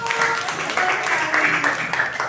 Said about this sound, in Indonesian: tepuk tangan untuk kelompok biru